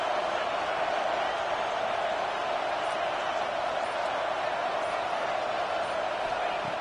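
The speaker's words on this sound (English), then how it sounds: "here comes the noise. This crowd is trying to inspire this defense to make a big red zone stop." A stadium crowd in the College Football 26 video game roars during a red zone defensive stand in an Oregon dynasty, a dense, constant wash of noise that holds steady throughout.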